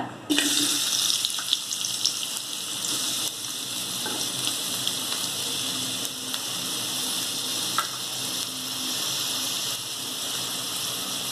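Chopped onion sizzling steadily in hot oil, a constant crackling hiss with occasional stirring clinks, no talking.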